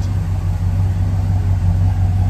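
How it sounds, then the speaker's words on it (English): A 1982 Oldsmobile Cutlass fitted with a Chevy motor and a stock exhaust idles with a low, steady rumble, close and loud with a faint pulsing beat. "Nice little rumble, but nice stock car."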